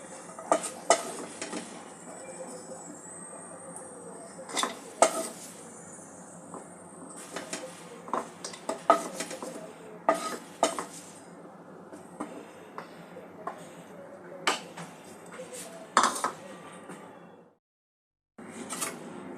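Fried cashews and raisins scooped out of a pan, with repeated close scraping and metallic clinks of a spoon against the pan over a low sizzle, ending in a brief silence before the noise resumes.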